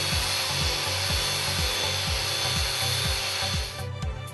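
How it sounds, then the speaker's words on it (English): A drum sander brushes a flat stainless steel surface to a No. 4 sanitary finish, a steady loud abrasive whir pulsing in regular strokes as the drum is drawn back and forth, with a brief change near the end. "draw the drum backwards towards you to maintain even pressure and control to get the desired finish"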